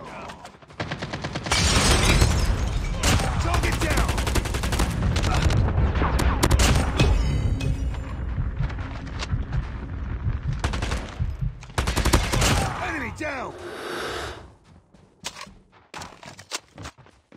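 BK57 rifle fire in Call of Duty Mobile: long, loud rattling automatic bursts with sharp impacts and a shattering crack, then quieter scattered shots and a fading tail.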